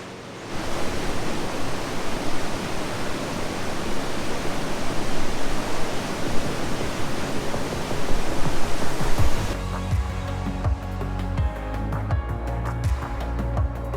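A steady, loud roar of rushing water at Swallow Falls in Wales, swollen after heavy rain, fills most of the clip, then gives way to a deep rumbling hum with lighter background noise.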